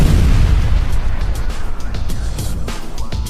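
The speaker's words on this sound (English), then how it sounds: "the concussive force from an explosion ripping into a building's support columns" An explosion blast strikes an aluminium foam panel, giving a loud, close roar of rumbling noise with scattered sharp crackles and pops as it gradually dies away.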